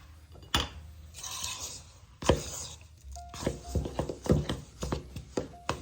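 A spoon stirring buckeye fudge ingredients in a bowl, with close scraping and irregular clinks and knocks against the dish, no talking.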